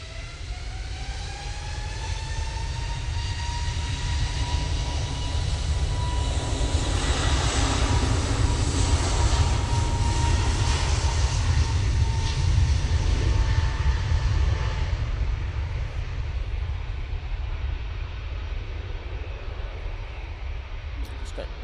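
Airliner at Manchester Airport, a loud sustained jet engine roar with a falling whine that swells and then slowly fades, heard outdoors at a distance.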